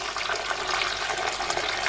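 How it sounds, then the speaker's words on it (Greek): Water gushing and splashing as a pot is drained and refilled with ice-cold water, a loud, steady rushing pour that runs continuously with no talking. "Θα αδειάσουμε το νερό και θα ρίξουμε πλέον παγωμένο νερό,"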